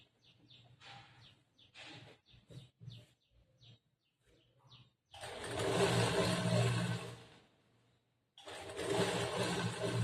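A sewing machine stitches a quarter-inch seam on cotton fabric for a churidar top, running in two sustained bursts of whirring after a stretch of faint, scattered chirpy sounds.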